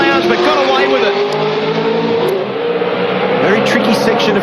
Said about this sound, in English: using low gears, high revs